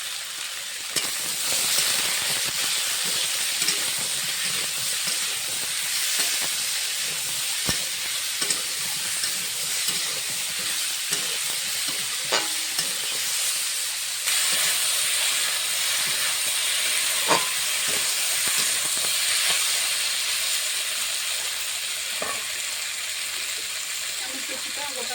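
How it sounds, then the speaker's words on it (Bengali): Potatoes, pointed gourd and onions fry in white oil with turmeric, a continuous close sizzle with occasional stirring clicks and scrapes throughout. "এখানে আলু পটল দেখো পেঁয়াজটা ভাজা হয়ে গেছে"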